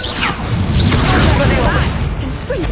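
Incendio and Confringo spells go off in a Harry Potter video game on a PS5 Pro, with booming whooshes and fiery bursts over continuous sound effects and a voice calling out spell names.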